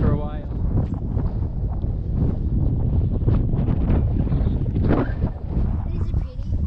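Strong gusting wind buffets the microphone steadily outdoors in Arrowtown on a cold day, a continuous low rumble that drowns most other sound.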